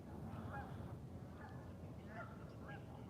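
Geese honk several times at a distance by icy water before a snowstorm, with short faint calls over a low outdoor rumble.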